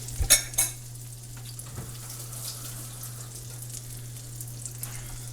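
Butter and chopped onions frying in a pan, a soft continuous sizzle under a steady low hum, opened by a few sharp clinks of a utensil against the pan, with no voices.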